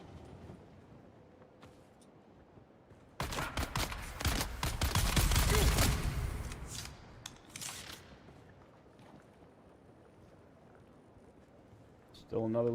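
Gunfire in Dune Awakening: a loud dense burst of rapid shots lasting a few seconds, then trailing off into scattered quieter sounds, with a voice speaking at times.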